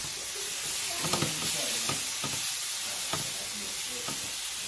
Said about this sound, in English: So, you have that sauteing up real good.